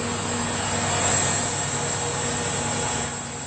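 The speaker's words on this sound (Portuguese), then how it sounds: "É o motor acoplado com o gerador, onde tem a produção de energia." Inside a biogas power plant, engines coupled to generators run in a continuous, loud, droning roar with a steady hum and high whine, filling the space without pause or speech.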